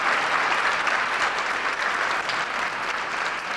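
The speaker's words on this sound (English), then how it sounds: "You give them a round of applause." An audience at a Martin Luther King Jr. holiday tribute applauds members of the Georgia Legislative Black Caucus, a dense, steady burst of clapping throughout.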